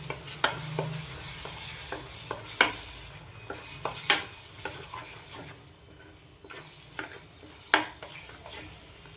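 A spoon scrapes and clinks against a pan as cashew paste is stirred into frying masala for a bitter gourd curry, with repeated sharp stirring strokes over a low, soft sizzle, close by and with no talk.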